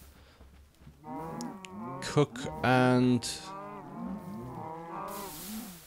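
Several cows in Minecraft moo loudly and close by in overlapping calls, one long low bellow standing out in the middle, with a voice talking over them.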